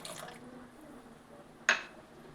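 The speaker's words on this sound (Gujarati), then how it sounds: "તો આપણે તેમાં 2 ચમચી જેટલું પાણી નાખી દઈશું" About two spoonfuls of water go into a thick wheat-flour malpua batter with a single brief splash against a quiet room background, preceded by faint soft kitchen sounds.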